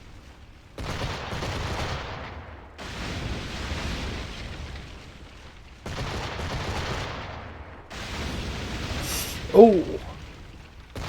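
Cannon fire from a sailing ship in Assassin's Creed IV: Black Flag, a series of long heavy rumbling blasts that roll on and fade over several seconds, with a brief exclaiming voice near the end.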